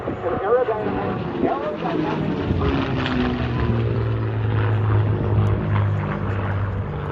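A P-51 Mustang flying an airshow demonstration at MCAS Cherry Point drones with a loud, sustained piston-engine roar, under an announcer's voice over a public-address system.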